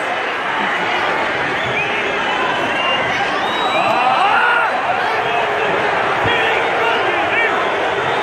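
A large football crowd at an Everton vs Burnley match roars and shouts in a sustained, dense wash that swells in the middle, with a voice talking over it.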